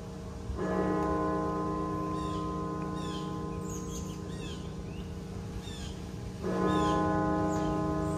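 Cathedral bells toll in honor of those who died of COVID, with two resonant strikes about six seconds apart whose long humming sustain rings through the gap, while birds chirp faintly outdoors.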